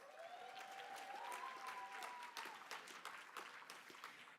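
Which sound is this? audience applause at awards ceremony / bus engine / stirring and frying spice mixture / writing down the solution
audience applause at awards ceremony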